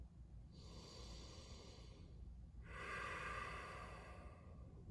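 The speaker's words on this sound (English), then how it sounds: "Let's do 10 more deep breaths together" Two long, deep breaths from a yoga practice, each a soft, airy rush lasting a couple of seconds with a short pause between them, close and fairly quiet over a low background rumble.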